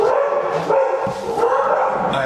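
Dogs bark and yip repeatedly in the background, muffled as if from another room, in an irregular burst of several barks.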